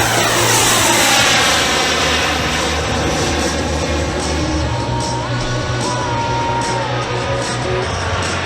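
Radio-controlled jet aircraft powered by JetCat turbines fly at a noon airshow demo, a loud steady turbine roar with a high whine that swells and fades slightly as the models pass.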